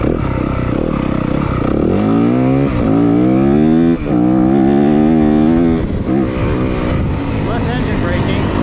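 A 2023 Yamaha 250FX motocross bike is ridden hard, its engine loud and close with rising revs and rapid pitch sweeps, gear changes breaking the snarl, plus wind buffeting and clatter.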